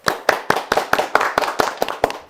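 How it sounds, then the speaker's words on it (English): A small group claps hands at a Warhammer 40k tabletop game, giving a quick burst of sharp, close claps in an uneven rhythm that keeps going for a couple of seconds without any voices. "So round of applause, everyone."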